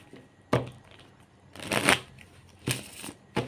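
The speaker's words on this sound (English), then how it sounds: "That's 2 shuffles." A deck of playing cards is shuffled in a few quick riffles, each a short, close, crisp flutter separated by quieter pauses, with no voices over them.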